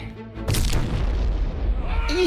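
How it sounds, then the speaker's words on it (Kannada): Cartoon bomb blast in a kids' animated film, a sudden loud booming explosion with a rumbling low tail that holds for over a second, then a brief voice at the end. "ಅರೆ ಬಾಂಬ್ ಬ್ಲಾಸ್ಟ್ ಆಗೋಯ್ತಲ್ಲ"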